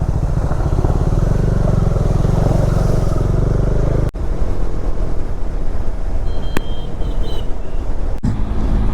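A motorcycle cruises along a road on a ride towards the Kokam and Ninai waterfalls near Dediapada, with a loud steady engine drone and wind rush that cuts out abruptly for a moment, twice.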